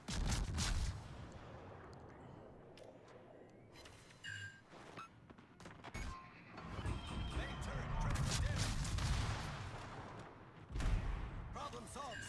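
A warship's guns fire high-explosive shells in the naval video game World of Warships, booming and cracking in scattered irregular blasts over ongoing battle noise, with a voice talking throughout.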